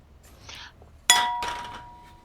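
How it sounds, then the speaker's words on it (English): A sharp glass-on-glass clang rings out once, loud and close, then a bright tone fades slowly over about a second; faint talk sits before it. "just banged a glass against another glass"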